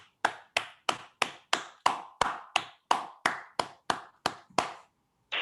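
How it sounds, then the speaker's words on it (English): Slow, evenly spaced single claps at a club meeting, about fourteen sharp isolated hits close by with silence between them, like one person or a small group clapping in unison. "A big round of applause to Mr. Rajanna."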